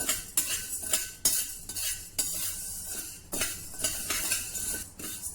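Sabudana roasting in a kadhai is stirred with a metal spoon, giving repeated scraping clinks and sweeps against the pan in an uneven rhythm, close and fairly loud with a light sizzle underneath and no talk.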